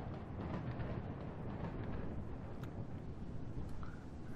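Stormy weather in the video game Minecraft, with a constant roaring wind and low rumbling of thunder that stays steady and loud for the whole stretch, no talking over it.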